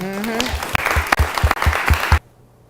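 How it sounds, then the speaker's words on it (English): Audience applause at a panel event on organ donation starts under a speaking voice, with distinct claps and thumps before cutting off abruptly into near silence. "Clap on that."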